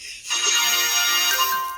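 A phone rings with an incoming WhatsApp call, a bright melodic ringtone playing continuously and loudly close by, with no talking over it.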